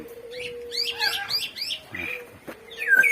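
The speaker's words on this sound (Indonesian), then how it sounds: "burung podang." An oriole (burung podang) sings nearby, a run of clear, fluid whistled phrases and chirps over a low steady hum, ending in a brighter call.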